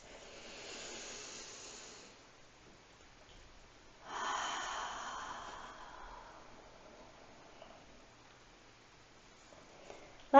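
Slow yoga breaths, an audible airy exhale for about two seconds, a pause, then a louder, longer breath that tapers off; soft, close and alone, with a brief sharp knock at the very end.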